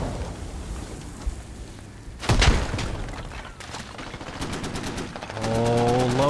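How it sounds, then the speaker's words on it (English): Video game warfare with a Bradley fighting vehicle firing its gun: a heavy burst of shots near the middle, then rapid repeated firing building into a sustained automatic stream toward the end, over a dense battlefield background. "Bradley's now trying to take pot shots at him."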